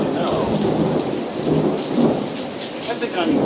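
Heavy rain pours steadily on surfaces while rumbling thunder rolls through a nighttime thunderstorm with sheet lightning, loud and close, with no voices.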